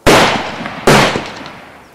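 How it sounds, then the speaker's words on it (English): Two sharp, loud gunshot-like bangs about a second apart, each followed by a long fading echo. "with rifle gunshots open fire"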